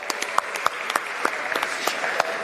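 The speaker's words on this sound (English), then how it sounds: "A huge round of applause for" A round of applause at a sports awards ceremony, with individual sharp claps standing out close by over a steadier crowd clapping behind them.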